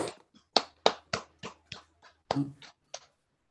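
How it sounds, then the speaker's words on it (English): Applause in an online meeting, a handful of separate sharp claps spaced out over a few seconds, thin and dry as if picked up by one microphone, alone with no talk. "So can we just give you a round of applause?"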